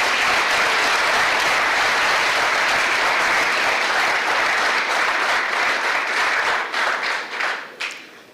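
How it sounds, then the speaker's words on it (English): Loud, dense applause from a conference audience welcoming panelists at an annual international research conference, sustained throughout and tapering off into scattered claps at the end. "Please join us in welcoming them with a huge round of applause"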